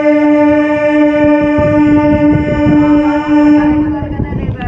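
A passenger train at Velpur railway station sounds a long, loud, steady horn blast lasting several seconds, with rumbling, clattering movement and station noise underneath.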